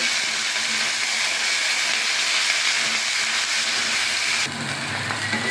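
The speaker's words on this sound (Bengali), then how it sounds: "পেঁয়াজ কুচিটাকে আমি ভালো করে হালকা বাদামি কালারের ভেজে নেব।" Chopped onions, about 300 grams, frying in hot oil in a pot for a Bengali chicken and potato curry, a loud, dense, continuous hiss that drops slightly near the end.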